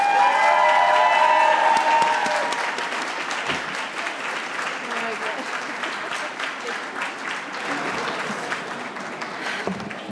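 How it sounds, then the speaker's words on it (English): An award ceremony audience bursts into loud applause and cheering for a trailblazer honoree, a thick, sustained wash of clapping with whoops that starts strongest and then settles into steady clapping. "please give your loudest and warmest applause to my friend, mentor, guiding light, and true trailblazer"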